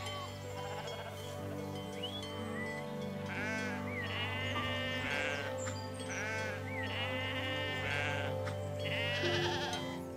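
A small herd of goats on a pastoral farm bleats repeatedly over a steady low hum of background noise, with several distinct wavering calls rising and falling at moderate distance.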